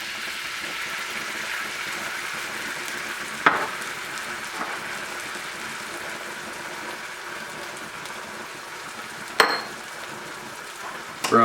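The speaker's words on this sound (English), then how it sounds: "You throw your garlic and ginger in there." Garlic and ginger sizzle in a hot pan over medium-high heat: a constant close frying hiss with two sharp utensil knocks partway through, no voices.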